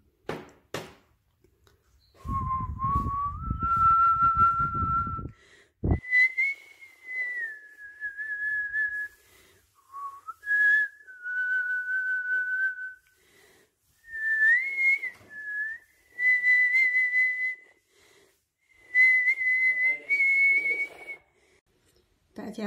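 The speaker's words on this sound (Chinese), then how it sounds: "这是我86岁的老妈妈吹的口哨" An 86-year-old woman whistles the melody of a Chinese song, a clear tuneful line of sustained notes broken by short pauses for breath, with a brief rustle and a gulp of water near the start.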